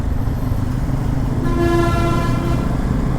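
Train at Nagercoil Junction railway station, a loud steady rumble with a sustained horn-like tone rising partway through and holding to the end.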